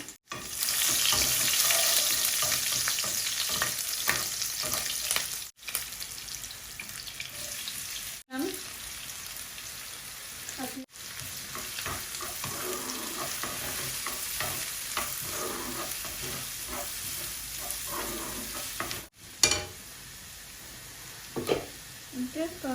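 Garlic cloves and three chilies fry in a little oil in a pan, giving a steady close sizzle with stirring scrapes and a few brief clinks, no talk over it.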